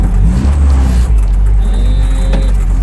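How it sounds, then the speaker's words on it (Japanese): Honda CR-X del Sol with a B16A VTEC engine accelerating on the road, a loud steady low engine drone heard from inside the car, with no talk over it. "いやもうすでに軽さが出てるアクセル踏まなくてもやっぱもう加速がねいいっすもんね"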